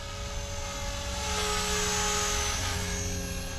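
A Blade Fusion 360 RC helicopter flies on a 4-cell battery with a steady high-pitched whine of rotor and motor, holding level and close with slight swells, with no talking.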